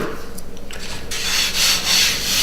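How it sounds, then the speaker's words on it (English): Flour being rubbed by hand across a pizza peel while making New York style pizza, a close, dry, rasping scrub that grows broader and louder partway through, with no talking. "Get a little flour on the pizza peel."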